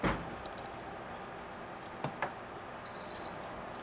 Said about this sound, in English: Beeps 3 times, that's how you know it's set.